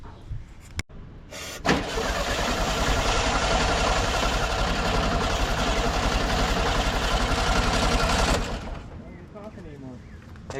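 A 1972 Volkswagen Karmann Ghia that sat for 20 years cranks on its starter for about seven seconds after starter fluid is added, giving a loud, steady churning whir that stops abruptly, with brief clicks before it begins.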